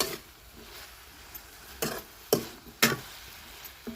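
Ridge gourd curry with turmeric and homemade masala sautéing in a pan: a soft, steady sizzle broken by four distinct spoon scrapes and knocks against the pan, close and clear, with no talking.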